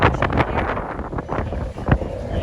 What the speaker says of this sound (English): It's a bit windy, but we are working.